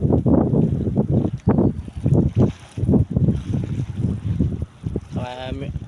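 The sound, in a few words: wind blowing along a seaside bay walk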